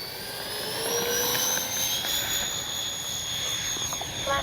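An FMS 70mm A-10 Thunderbolt II V2 RC jet model spools up for takeoff, its ducted-fan whine rising and sweeping in pitch, moderately loud and steady over several seconds with no talking.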